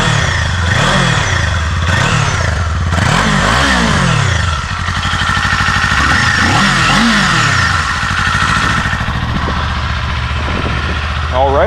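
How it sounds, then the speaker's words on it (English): A 2024 Kawasaki Eliminator 450 cruiser on its stock exhaust, loud and close, idling with a throbbing beat and then revved repeatedly in rising and falling blips before settling back to a steady idle. "a little stock exhaust action for you"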